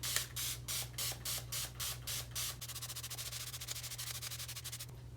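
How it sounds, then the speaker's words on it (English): A spray bottle pumps about ten quick hissing spritzes of water in a steady rhythm, then a faster run of short sprays follows, close and fairly quiet. "I spray the water on first"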